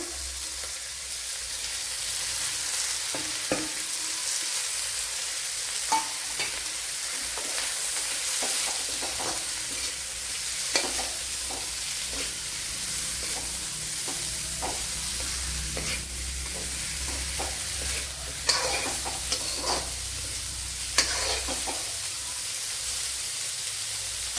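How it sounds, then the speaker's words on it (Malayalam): Bitter gourd frying in a pan, a steady close hiss of sizzling oil that runs throughout, punctuated by frequent scraping and clinking strokes as the pieces are stirred. "ഇതിലേക്ക് ഇനി ഈ പാവയ്ക്കയും കൂടെ ഇട്ട് കൊടുക്കാം"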